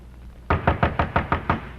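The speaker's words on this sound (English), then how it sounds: "knocked on the door of an innkeeper of the port" Seven firm, evenly spaced knocks on a wooden inn door at a port, a close and loud radio-drama sound effect heard alone with no voices.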